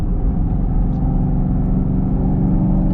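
Steady, loud engine rumble from a Whipple-supercharged Camaro running rough, an uneven, sputtering pulse underneath, continuous throughout as if heard from inside the car.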